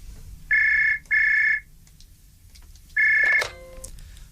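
Three bursts of an old-style electronic telephone ring sound alone in a quiet room, the first two close together and the third after a pause, clear and fairly loud.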